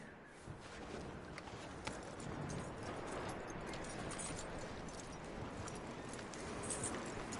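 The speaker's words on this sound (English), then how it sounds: "That looks like a decent horse." A horse in a video game clip-clops along at a walk, a faint, steady patter of hooves under a soft ambient background with no talking.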